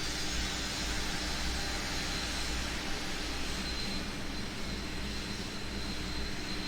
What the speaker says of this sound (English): we're going to be flying in a 767. Here in Flight Simulator 2004